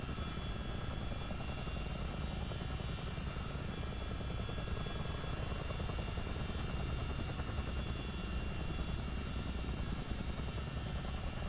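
A CH-47D Chinook twin-rotor helicopter in Microsoft Flight Simulator drones steadily and loudly throughout, a dense, unbroken rotor and turbine roar with no voices.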